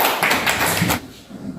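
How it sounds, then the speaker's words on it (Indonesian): Classroom pupils clap their hands together in a quick burst of dense applause lasting about a second, then it stops abruptly and the room falls quieter. "Tepuk tangan."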